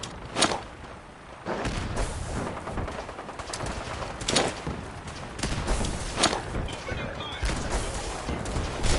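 Gunfire in a Fallout 4 firefight, several sharp loud shots at irregular intervals over a constant noisy battle background, with bird-like cooing sounds mixed in.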